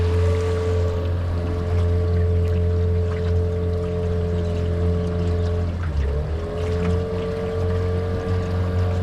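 Small outboard motor on a dinghy runs steadily on open water, a loud constant drone with a brief dip in pitch midway as the boat moves further out near a bridge and ramp.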